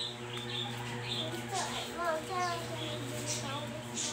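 Pet budgies chirping indoors, with short high twittering calls scattered across a few seconds over a steady background hum, while a voice talks nearby.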